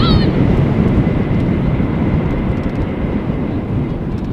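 Loud, steady broadband roar of an airliner landing on runway 18R at Amsterdam Schiphol in a crosswind. A brief high whine opens the sound, then a continuous rumble holds at close range with no talk over it.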